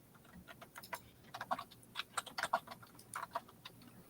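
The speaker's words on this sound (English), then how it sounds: "What are you over there typing?" Clicky, irregular bursts of keystrokes on a computer keyboard, fairly faint and close, with uneven rhythm and short pauses between runs, no talking.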